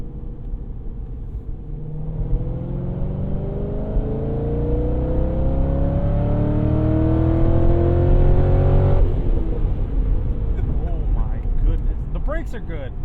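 Heard from inside the car, a Chevrolet Corvette C6 Z06 engine revs toward redline, its loud note climbing steadily in pitch for several seconds. It then drops sharply at a shift, and passengers talk over the engine.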